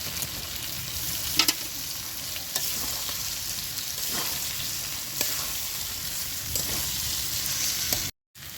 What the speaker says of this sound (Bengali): এবার আমি কচুটা ঢেলে দিচ্ছি এর মধ্যে